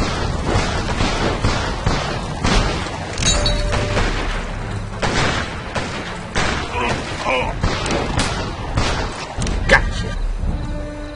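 Sharp gunshot blasts and heavy thuds ring out in the Western video game Gun, several loud reports scattered unevenly amid other impacts, with people talking in between.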